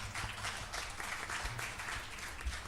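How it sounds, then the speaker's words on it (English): An audience applauds a panel at a multi-stakeholder forum, continuous faint clapping blending into a soft wash of applause heard from a distance in a large room. "can we have a round of applause for our amazing panel?"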